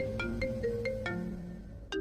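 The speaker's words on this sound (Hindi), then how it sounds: "करिश्मा का फोन आ रहा है" A phone ringtone for an incoming call plays a repeating electronic melody of bright, evenly spaced tones, fairly loud and close, with no one talking over it.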